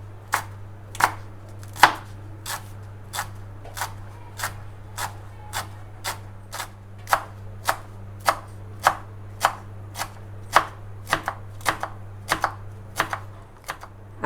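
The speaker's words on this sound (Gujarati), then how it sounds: "હવે આ રીતે રોલ વાળી લઈશું। અને કાપી લઈશું આ રીતે।" A knife chops through a rolled colocasia leaf (patra) roll on a board, about twenty crisp, close thuds in a steady, even rhythm over a faint background hum.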